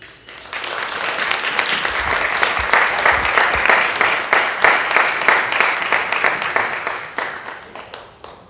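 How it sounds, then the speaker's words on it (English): Applause from a conference audience fills the room, dense steady clapping that swells, holds and then thins into scattered claps near the end. "Let's all give her another round of applause."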